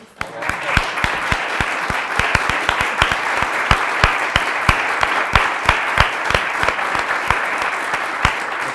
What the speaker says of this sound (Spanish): yo quiero que te demos un aplauso